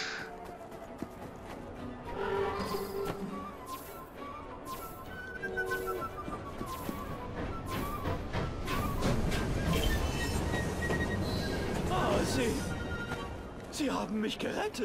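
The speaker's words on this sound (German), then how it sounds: "Der wird jetzt bestimmt gleich vom Zug erwischt." A train in the Assassin's Creed Syndicate video game rumbles past as a steady, loud, rolling noise that swells and fades over several seconds, with someone talking over it throughout.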